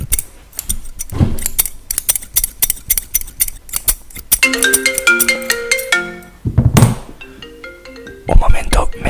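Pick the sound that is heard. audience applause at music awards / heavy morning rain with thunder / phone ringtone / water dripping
phone ringtone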